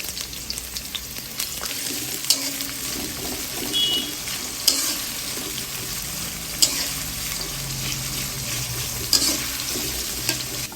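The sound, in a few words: onions frying in oil for biryani beresta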